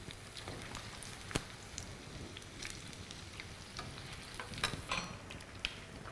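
Paneer pieces frying in hot oil for restaurant-style crispy chilli paneer, a steady dense crackling sizzle with scattered sharper pops and spatters, close and continuous throughout.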